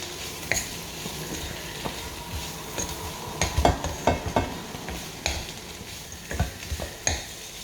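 Chinese-style salt and chilli pepper chips being tossed and stirred in a wok, giving close, irregular metallic scrapes and clatters over a steady sizzle of frying.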